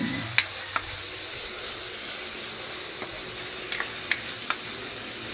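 Ampalaya (bitter gourd) sautéing in a pan with a constant close sizzle, broken by several sharp scrapes and taps of a spatula as it is stirred, steady and fairly loud with no talking.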